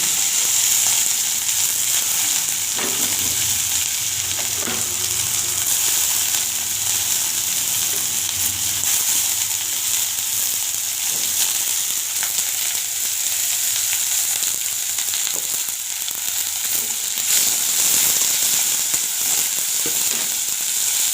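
Onions, curry leaves, dried chillies, asafoetida and fennel seeds sizzle in hot oil for a chickpea sundal tempering, a steady close frying hiss with no talking.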